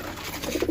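A pigeon in a loft of long-flying birds gives a brief, soft coo, a couple of low rounded notes near the end of a short quiet moment with no talking.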